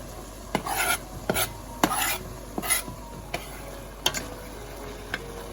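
Spinach soufflé mixture with dill being stirred in a pan, with repeated scraping strokes and utensil clinks against the metal at an uneven pace over a faint sizzle.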